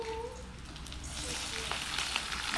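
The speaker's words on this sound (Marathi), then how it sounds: "हे कांदे चांगले लाल फ्राय करून घ्यायचे" Two large onions fry in hot oil on a terrace for misal, giving a steady, close, dense sizzle that builds slightly and stays continuous throughout without a pause.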